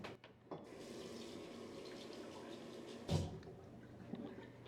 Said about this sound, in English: So I'm gonna try to rinse this off and see how much is left on my eyes.